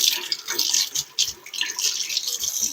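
Tap water runs and splashes in bursts over a blender blade being rinsed after making homemade mayonnaise, close and fairly loud with uneven gushes, and no voices.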